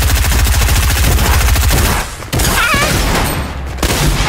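Rapid automatic gunfire in a desert-zone video game, a dense loud burst of repeated shots that stops partway through, then scattered booms and effects follow.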